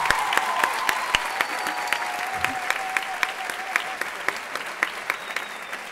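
Audience applause at a stand-up comedy show, with dense, lively clapping and a few sharper individual claps standing out, running steadily for several seconds without speech.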